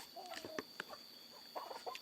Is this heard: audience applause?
no